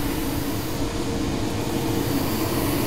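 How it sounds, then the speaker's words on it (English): A woodshop dust collector running nearby with a loud, steady, unbroken whooshing roar and low hum, unchanging throughout and free of speech. "Let's see if my dust collector will turn back on."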